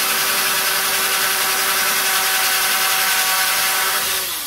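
A power drill bores a pilot hole for a screw while a screen door cylinder is being replaced outdoors, giving a steady, loud whine that holds for several seconds and tapers off at the end.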